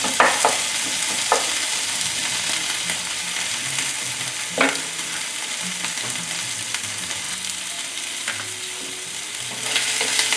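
Sausage, small grape tomatoes and onion fry in a pan for a Taiwanese sausage omelette, giving a steady close sizzle with occasional stirring scrapes and clinks, with no talking.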